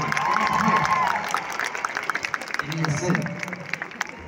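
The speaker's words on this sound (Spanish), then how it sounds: "¡Fuerte el aplauso!" A stadium crowd at a concert at Estadio Nacional applauds and cheers in a dense, steady wash, with a voice speaking over the noise.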